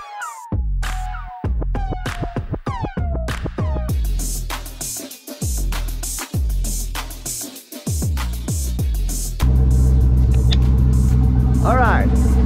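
A turbocharged Winnebago motorhome engine starts and pulls out, with repeated revving pulses and then a loud steady throbbing drone close by.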